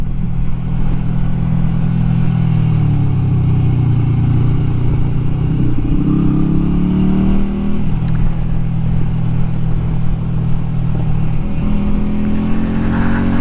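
An old custom motorcycle cruises along small country roads, its engine a steady low rumble with gentle rises and falls in pitch as it rolls on, close and continuous with no talk.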